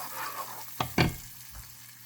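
Garlic sizzles in a hot pan for a spicy spaghetti and bacon stir fry, a steady close frying hiss broken by two sharp scraping stirs near the middle.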